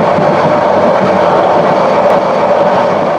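The Subarna Express runs from Chattogram to Dhaka, heard from inside as a loud, continuous rumble with a steady rolling drone throughout and no voices.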